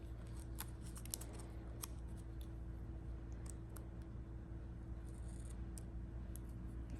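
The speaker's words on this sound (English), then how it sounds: "I'm going to grab my scissors and cut this up a little bit." Scissors snip through paper for a planner in a string of light, quick cuts, faint and close against quiet room hum.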